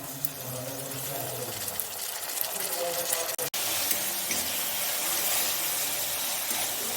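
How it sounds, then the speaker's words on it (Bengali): Onion, garlic and ginger-garlic paste fry in a pan with a steady, close sizzle that runs throughout, briefly interrupted by a short cut, while a voice speaks faintly underneath. "আদা রসুনের কাঁচা গন্ধটা যাতে চলে যায় তার জন্য আমি এটা দু তিন মিনিট ভেজে নিচ্ছি"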